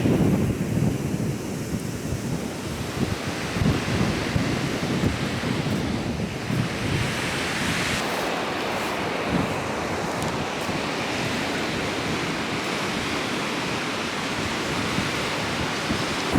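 Sea waves rolling in on Kuakata beach on a sunny day, a loud continuous roar of surf mixed with gusting wind buffeting the microphone throughout.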